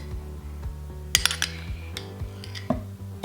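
A metal spoon clinking against a container while oil is stirred for homemade lip balm, several sharp close taps and scrapes in an irregular pattern over a steady low background hum.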